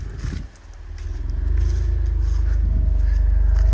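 A 2024 Subaru WRX Sport Tech with a six-speed manual fires up on a near cold start, its engine catching after a short crank and settling into a loud, steady, close-up idle.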